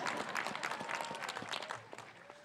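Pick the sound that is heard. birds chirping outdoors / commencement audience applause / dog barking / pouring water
commencement audience applause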